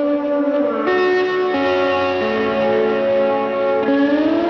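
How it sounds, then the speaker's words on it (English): Electric slide guitar soloed with added reverb and delay, sustained gliding notes that bend and slide between pitches, with a lingering echo tail, steady and close with no talking. "I think the electric slide guitar might get some added depth with more reverb and delay."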